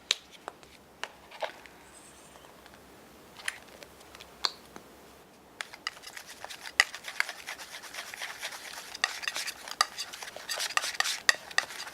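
Orange, yellow and red acrylic paints are mixed together, giving sparse soft taps and brush scrapes at first, then denser, quiet wet stirring and smearing close by.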